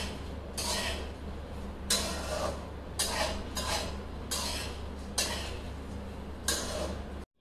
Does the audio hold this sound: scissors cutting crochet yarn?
no